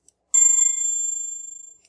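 A single chime from the bell function of SoundBox timer software, used to signal time in a congregation meeting; one clear bright tone rings out and fades over about a second and a half, alone with no talk.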